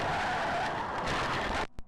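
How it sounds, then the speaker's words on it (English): A car skids at full speed and slams into a brick home, a loud, continuous rush of tire and engine noise lasting over a second before cutting off abruptly, followed by a brief thud. "Gavin smashes the vehicle into a brick home at full speed, with the Crowley."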